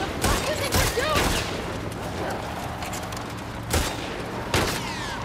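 Gunfire during an ambush in The Last of Us Part II, with scattered shots and bursts over a steady background rumble and sharp cracks standing out near the end; voices talk throughout.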